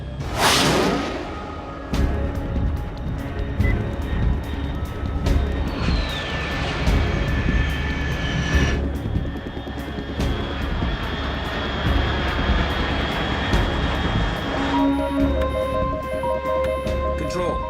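A fast aircraft engine from the video game Metal Gear Solid 3, a loud, continuous roar with rising whooshes and tonal whines sweeping across the mix, holding steady throughout with a shift in texture near the end.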